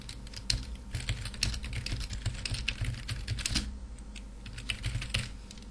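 Rapid, steady keystrokes on a computer keyboard while code for display drivers is entered, clattering continuously and close by with no talk.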